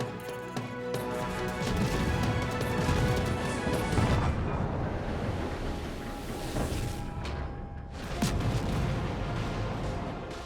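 Main guns of the German destroyer Leberecht Maass fire in World of Warships, heavy booming salvos and crashing impacts rolling over a steady loud backdrop of sea and battle noise.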